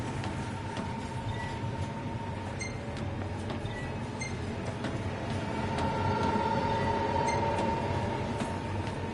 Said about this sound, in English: What is the point of taking a train to the middle of nowhere?